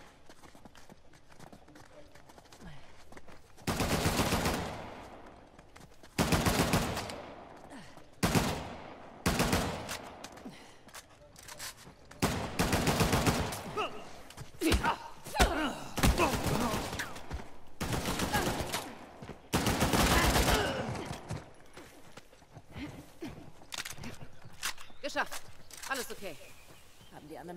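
Gunfire in Uncharted: The Lost Legacy, fired from below in the Western Ghats: loud, repeated sharp volleys and bursts scattered across the scene, mixed with someone talking and a shout.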